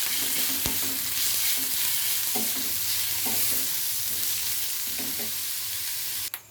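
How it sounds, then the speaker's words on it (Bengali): Chopped onions sizzle steadily in a frying pan, punctuated by a regular rhythm of stirring scrapes close by, ending with a sharp clatter. "পেঁয়াজগুলো আমার ভাজা হয়ে গেছে।"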